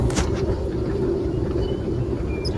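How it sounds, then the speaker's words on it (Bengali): Ambience on a Singapore MRT train station platform: a steady, loud low rumble and hum with a broadband wash, brief faint high chirps near the end, and no clear speech. "এটা হচ্ছে সিঙ্গাপুরের ট্রেন স্টেশন। সিঙ্গাপুরের ভাষায় যাকে বলা হয় এমআরটি।"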